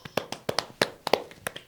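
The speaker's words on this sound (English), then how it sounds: "Big round of applause" A small group claps for a couple of seconds in sparse, uneven hand claps heard close and alone, without any voices.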